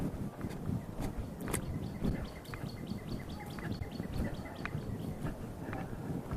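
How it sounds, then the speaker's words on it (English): Birds sing in Garner State Park, Texas. Repeated short chirps sound faint and somewhat distant over a rustling outdoor background, with no talking. "Pretty singing birds."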